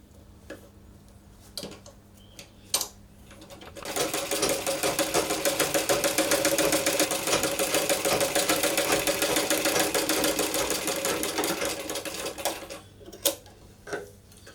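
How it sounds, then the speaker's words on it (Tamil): A sewing machine stitching fabric for half puff sleeves runs in one steady, fast, close whirring burst of about eight seconds, with a few soft clicks and handling taps before and after. "இப்போ இந்த ஒரு ஸ்டிச்சஸ் நம்ம போட்டுட்டோம்."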